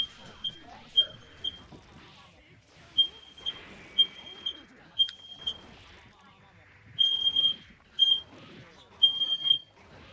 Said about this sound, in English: So our oven set off the fire alarm.